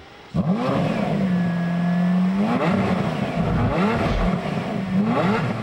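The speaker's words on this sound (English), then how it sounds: "V12 Harmony is just the sweetest sound an engine can make." A V12 sports car engine, a Lamborghini, fires up and revs repeatedly, rising and falling in sharp bursts, loud and close with no voices.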